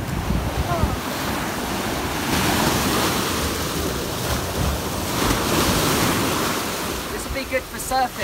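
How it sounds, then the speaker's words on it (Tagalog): Strong surf rolls onto a Philippine Sea beach in Albay, a loud continuous wash of breaking waves buffeted by heavy wind noise, with faint voices near the end. "Malakas ang alon."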